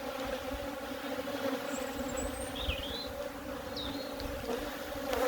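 A very strong honeybee colony hums steadily inside an open hive box, its laid-up brood frames ringed by nectar and pollen. The low, even buzz carries on throughout, with individual bees whining past close by now and then.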